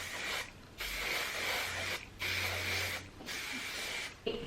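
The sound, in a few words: spraying heat protectant spray onto hair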